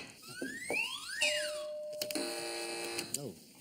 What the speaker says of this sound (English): Fingers on buzzers, Steve.